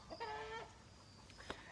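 Chickens being fed give a short burst of clucking, then a single faint cluck, soft and at some distance in a quiet setting.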